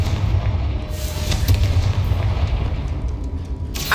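Confringo fire spell blasts in Hogwarts Legacy, a dense, loud rumbling burst with booming low end that sustains throughout, with a sharper crackle near the end.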